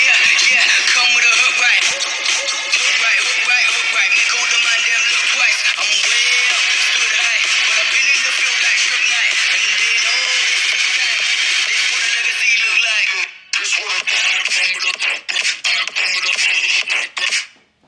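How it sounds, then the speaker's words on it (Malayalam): Audio plays from the single mono loudspeaker of a Vivo Y33s smartphone, a thin, bright, steady sound without deep bass, holding for most of the stretch, then dropping out briefly and resuming in choppier bursts. "മോണോ സ്പീക്കർ ആണ് ഈ ഒരു സ്മാർട്ട് ഫോണിൽ വരുന്നത്"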